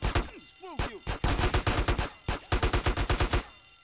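Gunfire in Grand Theft Auto San Andreas: loud, close rapid bursts of automatic shots in rhythmic volleys, pausing briefly between bursts, with a few single shots mixed in.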